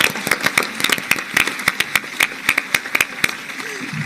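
An audience at a lawyers' panel at a legal congress in San Luis applauds at the end of a talk, a thin, scattered patter of individual hand claps rather than a dense ovation, fairly close and steady throughout.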